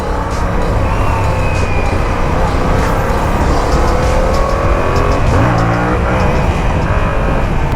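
A Yamaha R7 motorcycle engine under way on a ride, a loud, continuous drone with shifting engine pitch and steady wind rush throughout, including a brief rise in revs near the end.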